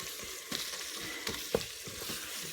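Ground beef sizzles softly in a pressure cooker while a spoon scrapes and stirs it in a few short, scattered strokes.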